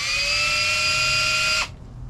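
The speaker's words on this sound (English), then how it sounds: "It's aluminum, so it's going to drill really easy." Power drill boring into aluminum during work on a 2000 Ford F-250 injector cup, a steady high whine for about a second and a half that cuts off abruptly, leaving quiet.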